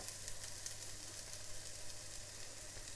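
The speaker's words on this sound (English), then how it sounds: "Let's fry this till the onions are lightly golden brown." Onions with turmeric powder frying in a pan give a faint, steady sizzle with fine crackle, continuous and even throughout, with no voices.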